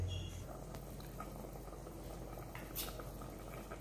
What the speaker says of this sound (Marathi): भुजण्याच्या ग्रेव्हीला छानशी उकळी आलेली आहे